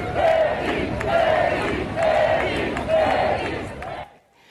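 Race crowd cheering to welcome a fan before the start, a large group shouting in rhythmic, chant-like surges that swell and fall about once a second before cutting off abruptly near the end.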